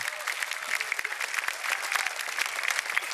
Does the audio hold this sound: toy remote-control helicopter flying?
no